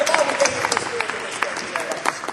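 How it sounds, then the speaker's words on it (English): An audience at a media industry quiz panel event gives a round of applause, a dense patter of clapping, with a voice talking over it. "Round of applause,"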